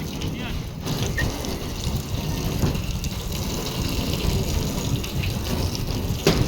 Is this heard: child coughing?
no